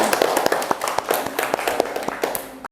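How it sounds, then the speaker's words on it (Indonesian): Classroom of students clapping for a classmate, brisk uneven hand claps close by, fairly loud and slightly ragged, tapering off at the end. "Tepuk tangan untuk Ain dulu."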